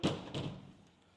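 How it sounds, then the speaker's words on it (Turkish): An indoor door in a hotel being pushed shut, making two close dull thuds in quick succession followed by a fading rumble. "Kapı açık kalmış zaten sıkıntı yok. Kapattım."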